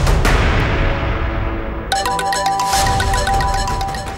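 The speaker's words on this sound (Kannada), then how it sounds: "ರಿಂಗ್ ಆಗ್ತಾ ಇದೆ." A phone ringtone plays as an outgoing call rings, starting partway through as a bright, repeating electronic melody that sounds loud and near, following a fading wash of background sound with no talk.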